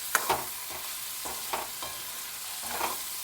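Masala for poha sizzles and sautés in a pan, with a steady frying hiss under repeated spoon strokes and scrapes that come roughly every half second. The sound is close and moderately loud, with no talking.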